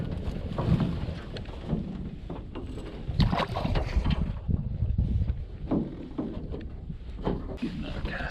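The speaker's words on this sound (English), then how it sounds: "This wind is pushing me." Wind gusts buffet a small fishing boat out on open water while crappie fishing, a steady rushing roar with rumbling microphone buffeting throughout.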